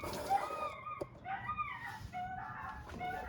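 Sherman the dog howls in drawn-out, wavering tones, several rising and falling cries over about three seconds, amid background noise in a work area during a car brake repair.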